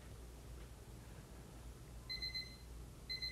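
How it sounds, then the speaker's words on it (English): Timer alarm going off after five minutes beside an air compressor regulator on the bench, sounding as two short bursts of rapid high electronic beeps over a quiet hiss, with no talking. "I'll bring in a timer here, set it for 5 minutes"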